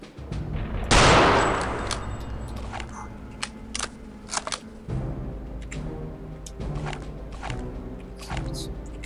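Rifle fire in the World War II shooter Return to Castle Wolfenstein: one loud, close blast followed by scattered sharper shots and clicks over a steady low game rumble.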